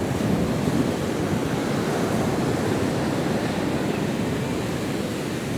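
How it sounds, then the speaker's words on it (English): Choppy ocean surf at Rockaway Beach in New York City roars in a steady, dense wash, mixed with gusty wind buffeting the microphone throughout. "So the waves are kind of choppy."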